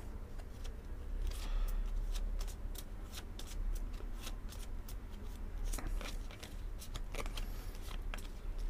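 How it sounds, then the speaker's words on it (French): Three playing cards shuffled by hand, giving a run of quick, crisp flicks and riffles at close range, repeated in uneven bursts against a low background hum. "C'est pas facile hein, de battre 3 cartes."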